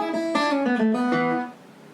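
Guitar playing a cannonball ending lick in E, a quick run of plucked notes moving across the fretboard with pull-offs, ringing together for about a second and a half before fading, solo and close.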